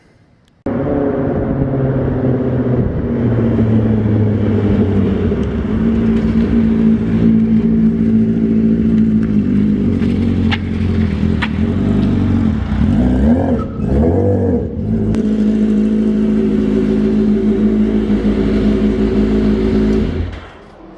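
A Hayabusa-powered sand rail on a test drive roars loudly and close, its engine revving up and down through gear changes, with a brief tire squeal midway.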